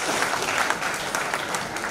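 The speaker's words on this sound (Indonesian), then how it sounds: "Coba berikan tepuk tangan buat Tuhan kita." Brief burst of congregation applause for God at a Christmas church musical drama, a soft, dense wash of clapping from a crowd, slightly distant and steady throughout.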